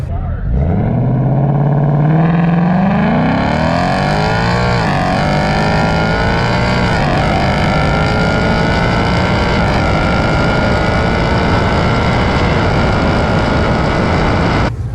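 A Mustang GT and a Tesla Model 3 Performance drag race at a dragstrip, one engine loudly revving and climbing in pitch as it accelerates hard, then holding a steady high roar for the rest of the run.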